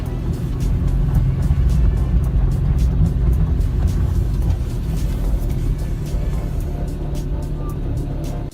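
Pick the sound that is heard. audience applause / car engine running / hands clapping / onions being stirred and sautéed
car engine running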